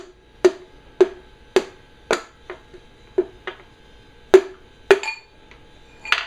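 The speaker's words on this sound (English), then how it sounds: "And I'll just keep driving this home until I get close." Hammer end tapping on an engine crank during a Vortec engine rebuild: about ten sharp, ringing metallic knocks at uneven intervals, close and loud with short decays, no talking.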